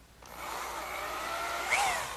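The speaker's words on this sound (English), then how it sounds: "I'll pre-drill some holes in the end" A power drill bores pilot holes for screws into the end of a wooden column, a steady whirring grind running nearly continuously at close range with a brief rise near the end.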